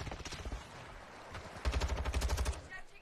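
Gunfire in Call of Duty, a rapid volley of sharp shots in two bursts, the second louder and denser, heard fairly close over game noise and faint talk.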